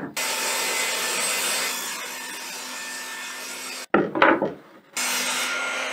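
Round wooden dowel turned against a spinning router bit on a router table, giving a loud steady whirring, rasping cut that briefly stops, rubs roughly for a moment and then resumes at full level, with no talking.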